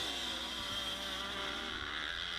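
Dense, continuous roar of many dirt bike engines on a motocross line at a live engine start during a Moto 2 race at Tri City, loud and unbroken throughout.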